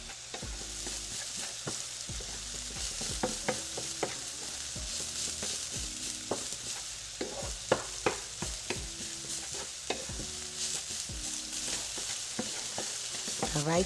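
Cauliflower rice seasoned with black pepper and salt sizzles steadily in a pan, with repeated scraping stir strokes and light clatter of a utensil, close and moderately quiet, no talking.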